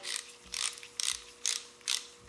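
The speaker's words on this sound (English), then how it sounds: "As you can hear, it is a click grip as well." An aluminum Dragonhawk X8 tattoo machine's click grip ratchets in a steady series of about five crisp, close mechanical clicks, evenly spaced and quiet, with no voices.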